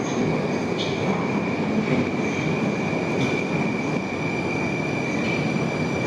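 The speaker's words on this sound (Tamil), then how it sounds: "அண்டர் கிரவுண்ட் சப்பேயில் போயிட்டுருக்கோம்." A Tashkent underground metro train rolls through its Soviet-era tunnel with a steady, loud, close roar, a thin high squeal from the wheels running throughout.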